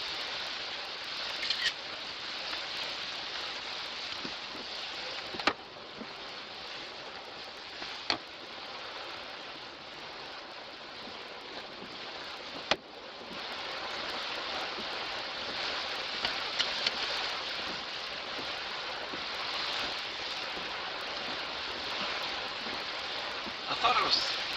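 A storm's feeder band drives rain onto a vehicle, giving a steady dense patter on the body and glass throughout, with a few sharp knocks scattered through it.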